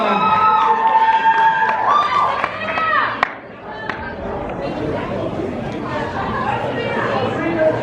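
An indoor crowd at a winter retreat session cheers and shouts for the green team, with loud overlapping voices, whoops and chatter throughout and a brief dip before the noise swells again.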